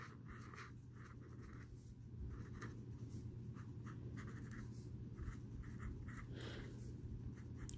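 A pen moves across paper in soft, close, intermittent strokes with a steady low background hum and no talking.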